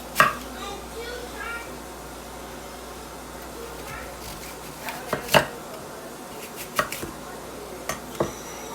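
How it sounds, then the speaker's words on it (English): A knife chopping an apple on a board for apple juice, a few sharp close knocks at the start, then a cluster of crisp cuts later, over a quiet steady room hum. "I don't know what I'm gonna do with this other apple. So I cut this up, put it in here."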